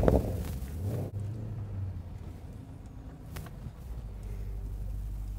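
A 2016 Porsche Panamera GTS fires up with a sharp, loud burst, then settles into a deep, throaty idle rumble that wavers slightly before steadying, heard alone without speech.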